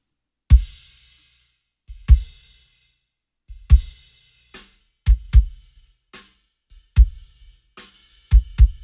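Kick drum from a recorded studio drum track, isolated and solo: deep, punchy thumps struck one at a time at uneven intervals, some in quick pairs, each with a short decay and silence between.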